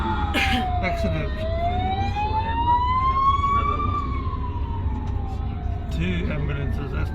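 Ambulance sirens wail at a roadside accident, one clear rising and falling tone sweeping over the rumble of nearby traffic, with voices talking over it.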